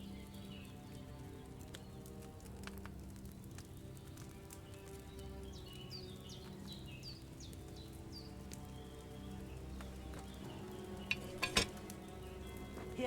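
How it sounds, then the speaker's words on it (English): A potion cauldron in Kingdom Come: Deliverance 2 bubbles and boils over a flame, a soft continuous seething with small pops, fairly quiet, ending in a few louder clinks. "Hear that bubbling? It's boiling."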